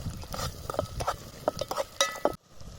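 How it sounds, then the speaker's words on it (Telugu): Ginger garlic paste frying in a pan for a dried mutton curry, close spoon scrapes and taps against the pan over a light sizzle, ending abruptly. "అల్లం వెల్లుల్లి పేస్ట్ పచ్చివాసన పోయేంత వరకు ఇట్లనే ఫ్రై చేసుకోవాలి"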